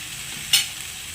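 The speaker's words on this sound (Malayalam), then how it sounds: "ഈ ഇഞ്ചിയുടെയും വെളുത്തുള്ളിയുടെയൊക്കെ പച്ചമണം ഒന്ന് മാറുന്നത് വരെ ഒന്ന് നന്നായിട്ടൊന്ന് വയറ്റി കൊടുക്കാം" Ginger garlic paste sautés with onions and tomatoes for butter chicken, a soft continuous sizzle with one quick, sharp scrape of stirring midway.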